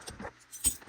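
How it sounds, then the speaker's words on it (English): A set of keys jangles as it is set down on the ground beside a Simplex fire alarm detector, a few short metallic clinks close by with no talk. "Put my keys on the ground for just a sec."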